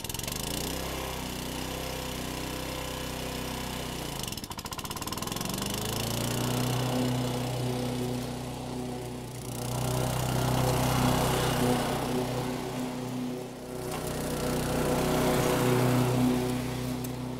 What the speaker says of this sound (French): On allume le moteur et on démarre.